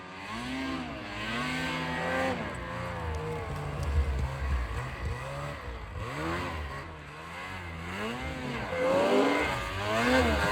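A mountain snowmobile engine revs hard during repeated wheelies outdoors, its pitch rising and falling in several surging sweeps, loud and continuous throughout.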